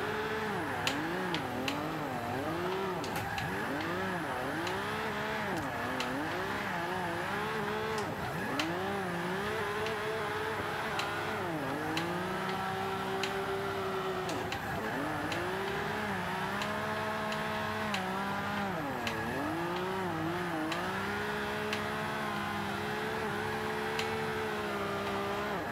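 A Honda NSX engine on a drift lap in Forza Motorsport 5, revving continuously and rising and falling in pitch through gear changes and slides, loud and close with no talking.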